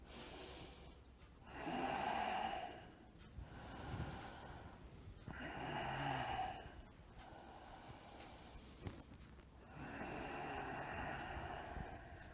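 During a qigong class exercise, a person takes slow, deep breaths, drawing audible inhales and exhales about four times. The breathing is soft and close, with no talking.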